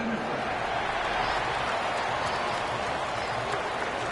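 A stadium crowd at an American football game gives off a broad, steady wash of cheering and scattered applause, with a voice faintly present underneath.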